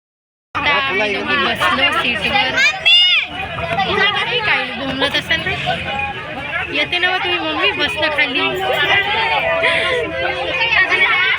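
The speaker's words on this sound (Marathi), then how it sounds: "एवढी गर्दी होती का ड्रायव्हरला पण जाता नव्हतं येत" Dense passenger chatter and crowd hubbub fill a packed bus, with close voices speaking over steady murmuring throughout.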